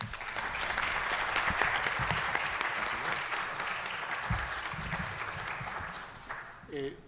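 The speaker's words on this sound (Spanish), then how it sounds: "me gustaría que recibiéramos, como se merece, con un aplauso al doctor Jesús Jáuregui." Applause from an audience at an academic lecture at the Escuela Nacional de Antropología e Historia, a dense, sustained round of clapping that runs steadily and then tapers off, with some voices murmuring underneath.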